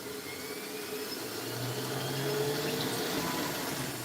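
A stand mixer whips French buttercream with a steady, continuous motor whir and faint high whine, holding an even level throughout.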